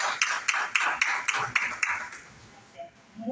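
Applause from an audience welcoming a doctor to the stage at a live health talk: a short run of distinct claps fading out after about two seconds, with faint murmuring afterward.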